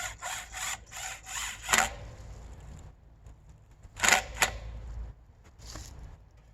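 A power drill drives a screw into wood while a chainsaw milling rig is being secured, heard as short whirring bursts separated by pauses, near and moderately loud, with quieter handling noise between them.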